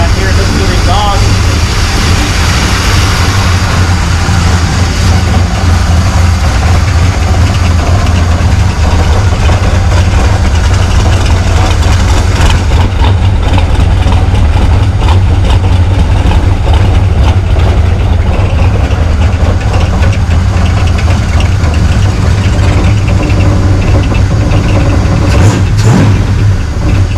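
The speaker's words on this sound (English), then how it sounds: "back here, listen to the exhaust." A Mopar engine idles steadily with a loud, continuous exhaust rumble close by, its low throb holding even throughout with a slight change in texture partway along.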